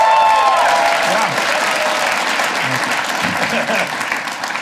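Loud, dense applause from a comedy club audience in Provo sweeps through the room and tapers slightly toward the end, with scattered whoops and crowd voices mixed in.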